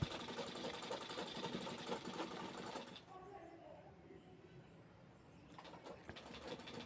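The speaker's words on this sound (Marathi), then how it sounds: "अगदी सावकाश शिवून घ्यायची आहे" A sewing machine runs slowly, stitching lace onto a cloth, its steady whirring hum close and continuous, easing quieter for a few seconds before picking up again, with no speech over it.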